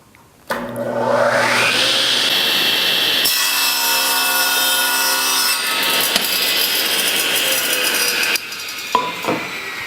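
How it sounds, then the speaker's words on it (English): A Laguna Fusion F1 table saw spins up loudly and then rips through a piece of oak, giving a steady, whining cut that runs almost the whole time before the blade load drops near the end, with no talking. "I will turn on the saw, let's see what it sounds like, and then see if it's got the muscle to cut through this piece of oak."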